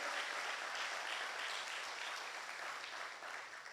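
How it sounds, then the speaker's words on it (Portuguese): A church congregation claps together, a sustained, fairly faint patter of many hands that tapers slightly toward the end. "Dá um salve de palmas para Jesus."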